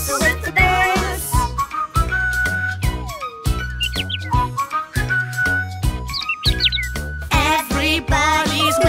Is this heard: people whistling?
yes